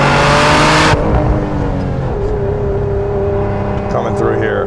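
A supercharged V6 Lotus Emira revs hard in second gear, a loud sustained engine roar near 5,000 RPM that briefly drops in pitch and then holds steady, with talk running over it.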